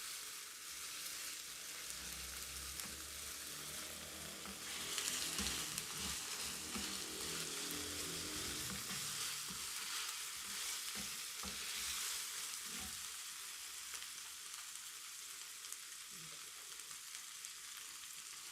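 Garlic and ginger frying in a pan, a steady bright sizzle throughout with intermittent stirring clatter, close and moderately loud with no voices.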